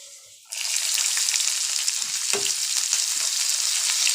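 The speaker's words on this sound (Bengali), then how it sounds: "এখন আমি পেঁয়াজ কুচিগুলো দিয়ে দেব" Chopped onions hit hot oil seasoned with bay leaf and cumin, and a loud, bright sizzle bursts in after a quiet moment. It holds steady with a few soft stirring knocks.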